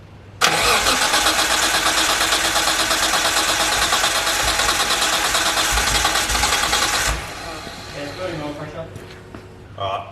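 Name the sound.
turbo Nissan R33 engine cranking and starting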